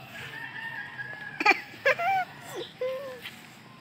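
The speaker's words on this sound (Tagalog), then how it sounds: "na ay manok, Ken." A chicken crows and clucks in short, fairly close bursts, a few separate calls spread over a few seconds against a quiet outdoor background.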